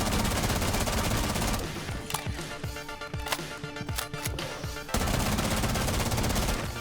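Rapid automatic gunfire rattles in bursts in Rainbow Six Siege on the Border map, with dense overlapping shots, a short stretch of separate cracks, then sustained firing again.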